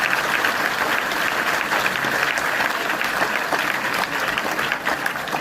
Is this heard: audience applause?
yes